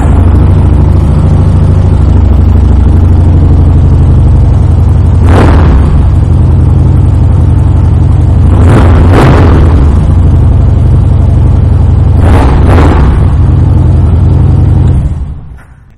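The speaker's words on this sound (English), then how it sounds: "fire this Road Glide up so you can hear that Bassani exhaust" A 2011 Harley-Davidson Road Glide with a Bassani aftermarket exhaust rumbles loudly and deeply at idle up close, with several sharp throttle blips, before cutting off at the end.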